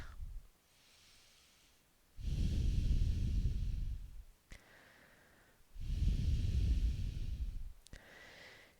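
Two slow, deep breaths during a beginner yoga class, each a long, airy inhale or exhale of about two seconds, close and soft, separated by quiet pauses with faint breathy sounds.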